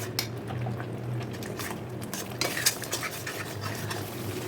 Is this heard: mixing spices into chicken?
yes